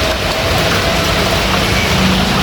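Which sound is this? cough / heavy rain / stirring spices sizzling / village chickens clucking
heavy rain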